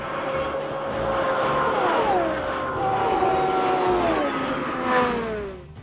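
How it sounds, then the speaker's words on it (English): Indy race cars at the Indy 500 around 1989-1991 sweep through a turn, their high-revving engines whining loudly with pitch sliding downward as they pass and fade. "Watch how fast Indy race cars turn."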